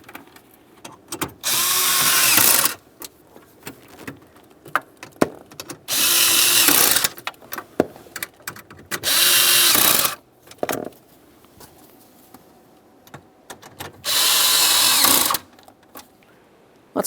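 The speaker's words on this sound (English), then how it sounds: "After I have both of these started, we'll snug all 4 of the lower bolts." Power tool driving and snugging the steering column mounting bolts on a 2001-2005 Ford Explorer, four separate loud whirring bursts of about a second or two each, close up, with quiet clicks and handling noises between them.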